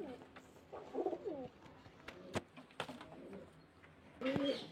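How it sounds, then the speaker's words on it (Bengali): Two jack pigeons coo in quiet, intermittent bursts, with a few sharp clicks and light knocks in between, close by in a pigeon loft. "দুটো জ্যাক পায়রা"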